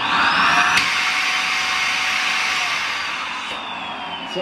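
A Shark vacuum cleaner with a suction problem gives a steady, loud motor whine with a broadband roar and a sharp pop near the start, running continuously without voices.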